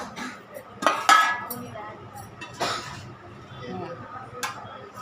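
Plates and cutlery clink while fried fish is served at home, a few sharp metallic clinks and scrapes, close by, with some quiet talk around them.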